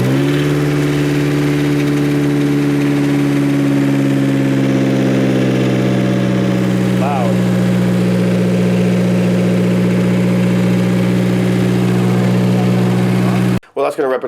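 A car engine idles with its exhaust removed, running through only the downpipe: a loud, steady low drone with strong harmonic hum, holding constant for about thirteen seconds before cutting off abruptly.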